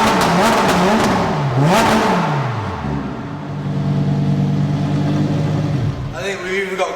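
Lamborghini Huracán Evo engine in Corsa mode, loud and close, rising and falling through several hard revs before settling into a steady high idle, then a final rev near the end.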